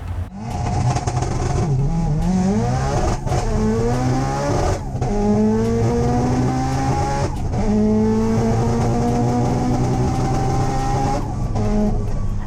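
A nine-second Subaru street car on a drag run in Jamaica, loud and close, its engine winding up through rising revs with gear changes, the tires spinning and squealing.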